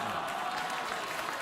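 Talk-show studio audience clapping and cheering in a dense, even roar of applause, moderately distant and continuous throughout, with no voices over it.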